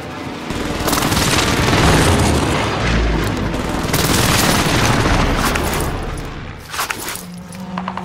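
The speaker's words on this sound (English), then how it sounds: "Enemy precision airstrike." An enemy precision airstrike in a shooter video game pounds down as a long, loud barrage of overlapping booms and rumbling blasts, swelling and ebbing, with a few sharper cracks near the end.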